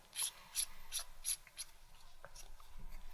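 Diplomat Aero fountain pen being closed up, a quiet run of light clicking and scraping contacts, about six crisp ticks early then softer rubbing, close and faint with no talk.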